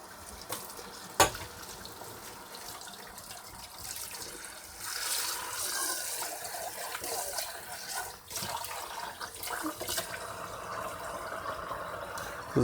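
Camping cookware being scrubbed with a scourer inside and out and then rinsed: broad, hissing water and scraping noise with a sharp knock near the start and steadier washing sounds through the middle, with no talk.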